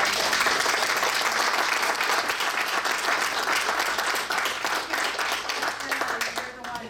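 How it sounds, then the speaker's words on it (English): Applause from the audience at a utility district board meeting, a sustained round of clapping that is loud at first and thins out toward the end, with a few voices mixed in. "Yeah, round of applause."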